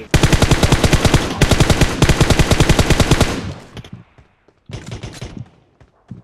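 Loud automatic gunfire from PUBG Mobile rattles in rapid sustained bursts, stops briefly, fades into a short quiet gap, then resumes with another short burst.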